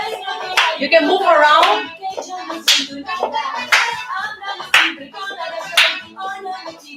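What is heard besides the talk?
hand clapping to keep rhythm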